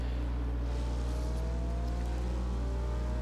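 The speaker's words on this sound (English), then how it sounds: "It's a very quiet car too. It sounds like stock exhaust even though it's not." A maxed-out 2010 Abarth 500 drag car with an aftermarket exhaust in Forza Horizon 2, engine holding a steady, fairly quiet drone with a low rumble throughout, close and continuous with no talk.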